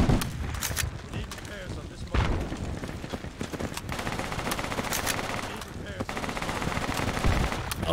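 Machine guns crackle in rapid, dense bursts during a Project Reality battle, with shots close and far overlapping almost without a break. Voices talk under the gunfire.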